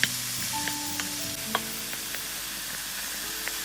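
Mushrooms sauté in a pan over medium heat with a soft, even sizzle, joined by a few light clicks and clinks from stirring and faint tonal background sounds, fairly quiet and without speech.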